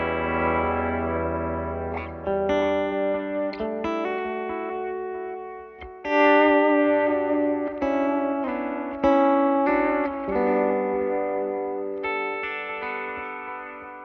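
Electric guitar run through a Strymon Timeline delay pedal, playing sustained chords and melodic lines with echoing repeats and a slightly driven tone, steady and fairly loud with no voices.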